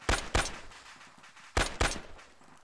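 Rifles crack in the World War II shooter Iron Front, two pairs of loud, close shots with a pause between the pairs, each shot sharp and echoing briefly.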